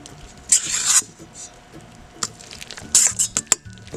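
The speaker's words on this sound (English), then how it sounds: "Just keep stirring that up." Clear slime being stirred, two short wet scraping, rasping passes with small clicks between them, close and fairly quiet.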